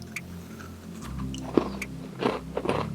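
Someone bites into an eggless naankhatai cookie, giving one sharp crunch followed by a few crumbly chewing crunches, close and fairly quiet, without talk.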